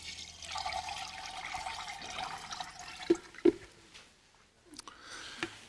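Liquid ice cream mix is poured into an ice cream machine, making a steady gushing, splashing flow that ends in a few sharp drips and clunks, close and with no talking.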